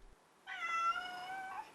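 A domestic house cat gives one long, drawn-out meow, close and clear in a quiet room, crying to be let out for its walk.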